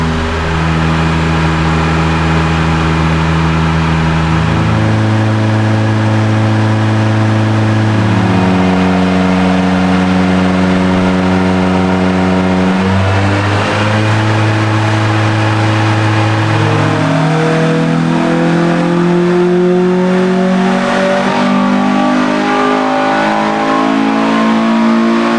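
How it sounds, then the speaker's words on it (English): A car engine on a dyno at full throttle, loud and sustained, its pitch stepping up and down in surges as the load is eased and the revs climb, with no talk over it. "You can hear it accelerating now because he reduced the load on it."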